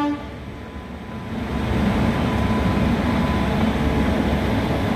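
A Santragachi loco shed locomotive moves off to run around and couple at the rear of the Howrah–Hatiya Kriya Yoga Express, a steady low rail rumble that swells after the first second and holds loud, with a faint tonal hum.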